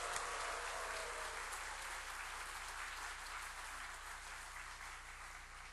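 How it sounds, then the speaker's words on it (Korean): Sustained applause from a church congregation at an ordination service for deacons and elders, a dense, even wash of many hands clapping that fades slightly toward the end, heard without speech. "우리 모두 함성과 함께 박수 쳐줌으로써 축하했으면 좋겠습니다"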